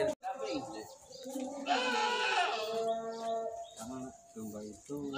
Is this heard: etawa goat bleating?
yes